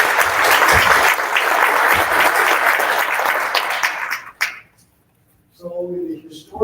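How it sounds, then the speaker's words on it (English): Audience applause at a veterans alliance conference, a loud sustained round of clapping that stops abruptly, leaving a brief silence before a speaker resumes talking. "let's give them a big round of applause."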